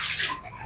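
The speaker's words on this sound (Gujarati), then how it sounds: "પાણીના બાટલા ભરે છે" Water gushes steadily into bottles being filled at home during a power cut, a loud, close, splashy rush that eases slightly toward the end.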